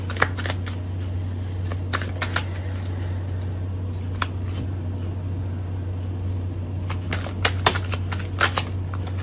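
Tarot cards shuffled close up, coming in bursts of crisp riffling clicks and flicks separated by short pauses, over a steady low electrical hum.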